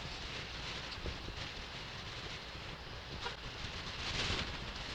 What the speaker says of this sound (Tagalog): Hirap magpatakbo dahil ang lakas ng hangin.